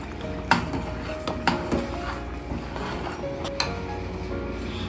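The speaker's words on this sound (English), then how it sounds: "we have to continue stirring and stirring and stirring" A spoon stirs arroz con dulce rice pudding in a pot, with scattered sharp clinks of metal against the pot rim over a steady low kitchen background, close and moderately loud, no talking.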